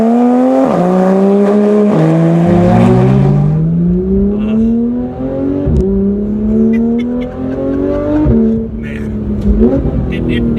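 A Porsche 911 engine accelerating hard on the road, revving up through several gears with rising pitch sweeps and shift breaks, loud and close from inside the car throughout.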